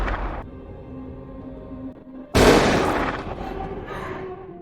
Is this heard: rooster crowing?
no